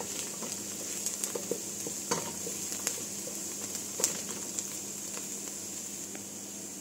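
Onion and garlic sauté in a pan with a soft, steady sizzle, broken by occasional clinks and scrapes of a utensil stirring at close range.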